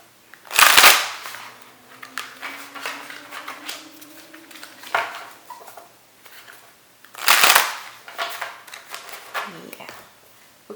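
A deck of oracle message cards is shuffled for a romance pick-a-card reading: two short, crisp riffling bursts several seconds apart, with quieter card handling and soft rustling in between.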